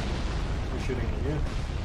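Enemy gunfire and blasts from the Dark Souls 3 video game, a dense, continuous rumbling barrage with bursts and pops mixed under voices talking throughout.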